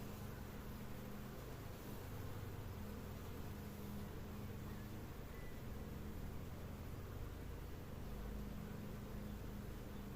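A populous honeybee colony hums in its hive during a spring inspection, a soft, steady drone with a low buzzing tone held evenly throughout and no talking.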